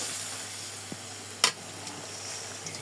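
Chicken sautéing in a pan, a constant soft sizzle with a single sharp utensil clink in the middle and a few faint scrapes, close and fairly quiet.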